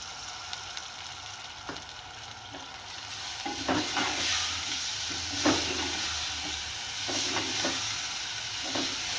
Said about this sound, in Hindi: चलिए मैं ये टमाटर और ये मसाले भूनती हूँ